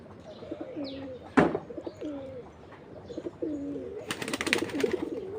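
Racing pigeons kept at a home loft coo in several soft, repeated throaty phrases close by, broken by a sharp knock and then a burst of rattling flutter near the end.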